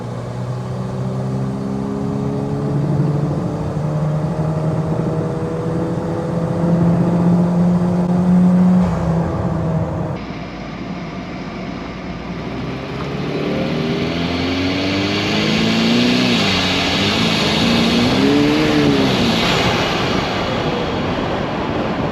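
A 1988 Toyota pickup, built as a sleeper street truck, revs hard with a loud engine note climbing in pitch, easing briefly, then winding up again on its own with no talking.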